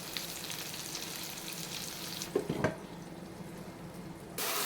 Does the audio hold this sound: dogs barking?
no